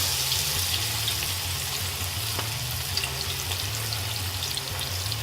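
Fish frying in a pan of oil, a dense, steady crackling sizzle with a low hum underneath, continuous and close throughout with no voices.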